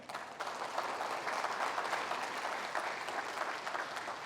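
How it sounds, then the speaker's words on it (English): Continuous applause from a gathered audience of families and friends at a school keynote ceremony, a steady dense wash of clapping heard at moderate distance throughout. "they deserve a round of applause as well"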